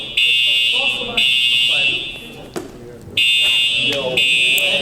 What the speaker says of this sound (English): Is someone pulled the fire alarm